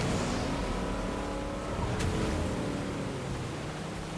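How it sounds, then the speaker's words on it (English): A steady motorboat engine in Fortnite drones loudly and continuously, with a brief high hiss partway through and no voices. "Boats are loud."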